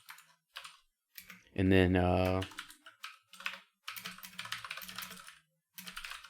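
Computer keyboard typing while coding C# script code, with rapid bursts of close key clatter separated by short pauses, and a brief stretch of spoken words partway through.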